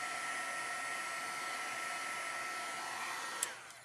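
Hair dryer–style heat tool blowing steadily on painted, stamped holiday ornament, a constant close airy whoosh with a slight shift near the end.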